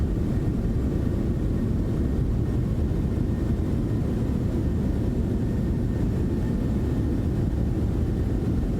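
A Citation X jet in Microsoft Flight Simulator lands with thrust reversers deployed, producing a loud, steady, dense engine roar that holds unbroken the whole time with no talking.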